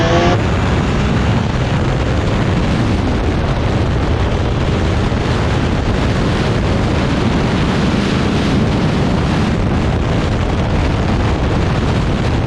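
A 1990 Honda VFR400R NC30 motorcycle downshifts and then accelerates hard, its engine roaring loudly and continuously up close, mixed with heavy wind rush.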